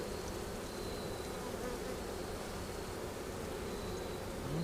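Honey bees buzz steadily during a hive inspection for a queenless colony, a dense close hum filling the space at an even level with no talk.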